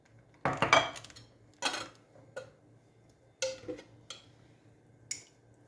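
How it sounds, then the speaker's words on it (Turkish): A teaspoon scrapes and clinks against a dish while pepper paste is spooned out: several sharp metallic taps and scrapes in irregular bursts, close and clear, with quiet gaps between. "Bir tatlı kaşığı biber salçası koyuyorum"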